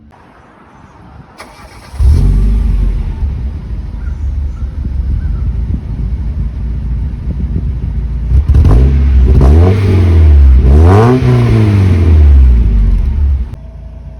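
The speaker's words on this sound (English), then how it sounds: "it's quiet whenever you start it up, and then it gets loud as you go up the rev as you go up in the rev range" Mazda NA Miata exhaust: quiet idle, then the engine catches and settles into a loud steady drone before several rising and falling revs, cutting back near the end.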